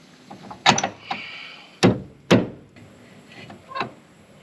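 Busted winch drum on a 1998 Dynaweld trailer free spooling, heard as a few sharp metallic clanks and rattles with short ratcheting bursts, close and moderately loud with quiet gaps between.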